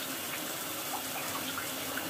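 Water splashing and gushing steadily while a dog is being bathed: a close, continuous wash of noise with no pauses, and no voices.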